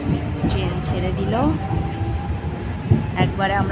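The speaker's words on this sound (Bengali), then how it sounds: "ট্রেন ছেড়ে দিল।" A train pulls out of a station in India on a foggy morning, rolling steadily along the rails with a low rumble, while passengers talk nearby over the running noise.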